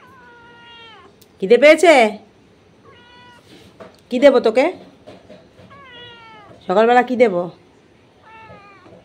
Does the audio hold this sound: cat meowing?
yes